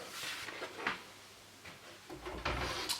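The side door panel of an NZXT Manta PC case is pulled off, giving soft scraping and clicking handling noises, then a louder rattling clunk near the end, close by with no talking.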